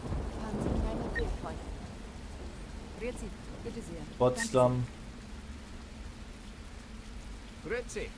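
Rain falls steadily and thunder rumbles during a storm in a long-distance bus simulator game on a Berlin to Potsdam route, with someone talking over the weather.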